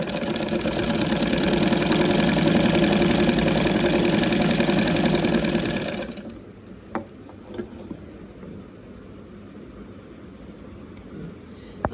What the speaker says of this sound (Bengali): নতুন মেশিনে কাজ শুরু করলাম এখন কাজ অনেক তাড়াতাড়ি হবে